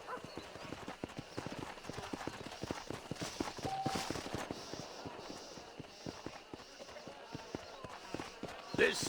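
A horse's hooves clip-clop in a quick, steady gait in Red Dead Redemption, close and continuous, with faint ambient sound and a murmur of voices in the background.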